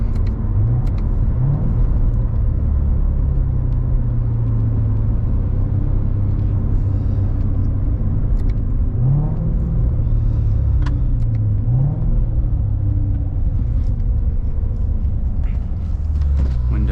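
A Corvette Z06 engine drones steadily while driving, a loud, low rumble with brief rising revs and shifts throughout, heard from inside the cabin.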